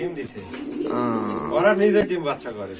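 Pigeons coo at a pigeon farm, with a low rolling coo rising and falling close by while people talk over it.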